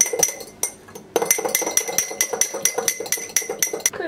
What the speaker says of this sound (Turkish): Şöyle karıştırayım